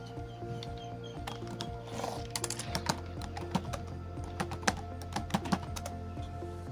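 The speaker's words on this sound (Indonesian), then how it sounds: "dengan cara membuat database baru dengan mengetik yaitu namanya create database" Typing on a computer keyboard while creating a database: a close, irregular run of crisp key clicks with occasional louder taps over a low steady hum, with no talking.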